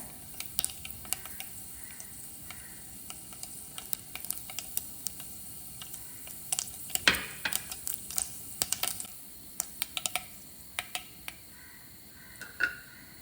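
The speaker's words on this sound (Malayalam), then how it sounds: "ഇനി അതൊന്ന് പൊട്ടി വരട്ടെ" A tablespoon of mustard seeds crackles and pops in hot oil for a Kerala-style garlic pickle, scattered sharp little bursts over a faint sizzle, fairly quiet and close.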